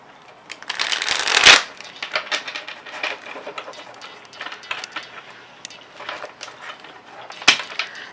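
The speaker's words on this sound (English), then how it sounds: "I'm just going to do a quick shuffle." Tarot cards are shuffled in quick riffling bursts close to the microphone, loudest near the start, then softer intermittent flicks and a sharp snap near the end, with no talking.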